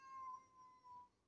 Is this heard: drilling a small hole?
no